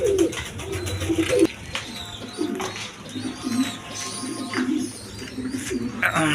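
A pair of Pakistani pigeons with two chicks, soft repeated low cooing in close, uneven bursts, with faint chirps and some background noise.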